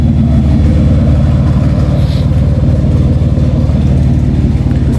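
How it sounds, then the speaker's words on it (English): Loud motorcycle engine roaring steadily past a van parked off-grid in New Hampshire's White Mountains, a dense continuous rumble that holds close and heavy throughout with no talk over it. "there's a loud motorcycle going by there"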